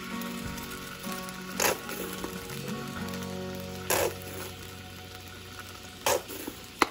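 Pork chops sizzle and fry steadily in a pan after a squeeze of ketchup, with a continuous crackling hiss broken by a few louder bursts of spatter, close up and with no talking.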